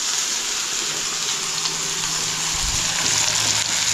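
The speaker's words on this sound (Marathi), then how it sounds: "आता बघा इथे कांदा मिरची चांगली फ्राय करून घेतली आहे" Onion and green chillies frying in a pan for a plain potato-style bhaji, giving a steady, close sizzle that holds evenly throughout with no voices.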